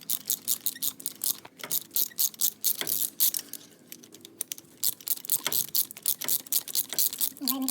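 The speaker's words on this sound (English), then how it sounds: "You're gonna put your 5/8 spark plug socket on the spark plug with a long extension. You just crack it loose." A socket on a long extension ratchets to loosen a spark plug on a Jeep Wrangler 3.8L V6, giving rapid close clicking bursts in an irregular rhythm with short pauses.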